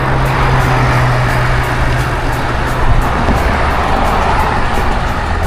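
Cars and traffic rumble loudly and steadily on a road during a road-bike training ride, a dense continuous roar with a low engine drone early on and no clear speech.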